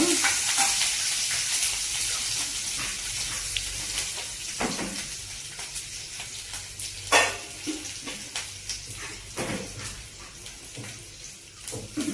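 Garlic frying in oil in a pan for bottle gourd curry, a steady close sizzle with occasional stirring scrapes and clinks, softening gradually toward the end, without speech.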